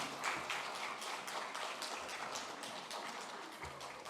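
A church congregation at a Korean thanksgiving worship service applauds; the clapping is a soft, dense, steady patter that sounds distant and faint, with no talk over it.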